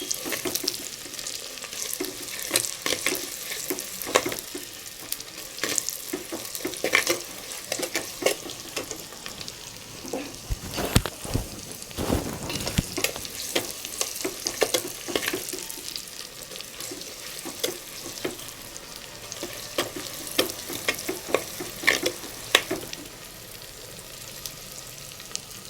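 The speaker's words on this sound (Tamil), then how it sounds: "வெங்காயம் நல்லா பொன்னிறமாக வதங்கணும்." Onions fry in a pan for vegetable dalcha, a steady close sizzle broken by repeated scraping stirs of a spoon, with no one talking.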